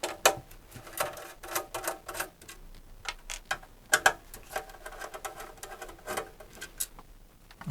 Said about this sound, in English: we just have to take off the screws on top here, which have a Phillips fitment